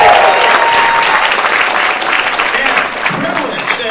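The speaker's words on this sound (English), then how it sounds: "That deserves a round of applause." An audience at the Morning Pointe Seniors Got Talent showcase in Lexington gives a loud, full round of applause, with cheering and talk mixed in as it carries on.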